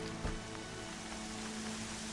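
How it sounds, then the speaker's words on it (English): Rain in Horizon Zero Dawn, a soft steady patter of falling drops with a faint low hum underneath, quiet and continuous throughout. "Oh, now it's raining."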